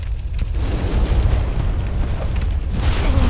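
A fire bomb bursts in Dark Souls, giving a muffled, rumbling boom with a sustained low roar and crackle that carries on for a few seconds.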